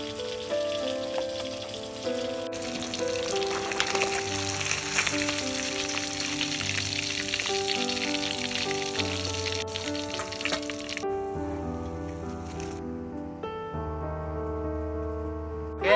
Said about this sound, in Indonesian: kita lanjut goreng dulu